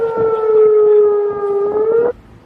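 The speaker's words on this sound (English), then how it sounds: "that we will hear these air raid sirens" A loud air raid siren wails on a steady sustained tone for about two seconds, then cuts off sharply.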